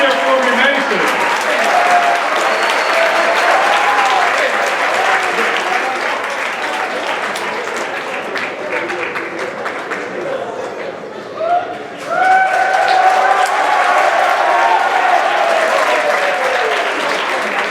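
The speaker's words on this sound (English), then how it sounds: "Give Mason a round of applause" A crowd applauds a hypnosis volunteer during a stage hypnosis show at a school, sustained dense clapping with loud cheering voices throughout, briefly dipping near the end before swelling again.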